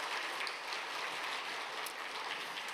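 A church congregation gives steady, dense applause during a Sunday morning service, a continuous even wash of many hands clapping at moderate distance with no talk on top.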